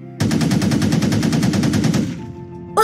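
Rapid cartoon machine-gun fire from a Sonic animation, a loud steady burst of evenly spaced shots lasting about two seconds before trailing off into a quieter tone.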